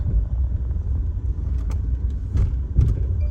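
An auction car runs roughly with a bad engine mount, giving a steady low rumble with uneven knocks and thumps, close and fairly loud with no talk.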